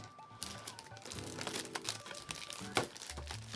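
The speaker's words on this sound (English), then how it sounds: "Let's get it open." A plastic bag holding Gunpla Gundam Aerial model kit sprues is pulled open, with close, busy crinkling and tearing bursts in irregular rhythm.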